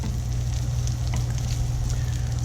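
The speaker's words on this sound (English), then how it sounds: "so to saute these, we're going to move them around in the pan" Chestnuts sautéing with salt and pepper in a pan, a continuous soft sizzle over a low steady hum of burner fire, with faint stirring movements.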